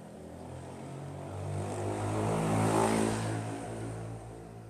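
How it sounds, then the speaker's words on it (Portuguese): A loud motorcycle passes close by outdoors, its engine drone swelling to a peak near the middle and then fading away, steady and without talk. "passou uma moto muito barulhenta aqui"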